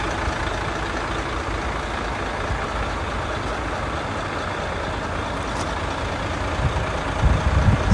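A 2008 Mercedes Actros 8x8 dump truck lowers its tipper bed, giving a steady, loud diesel engine rumble with hydraulic drone that stays even throughout and swells slightly near the end, with no talking.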